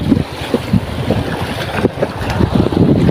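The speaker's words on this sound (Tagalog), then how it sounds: "Lakas ang hangin, di makaporma." Strong wind buffets a small fishing boat at sea off Palawan, a loud continuous roar of gusts against the microphone with sloshing water and hull knocks beneath.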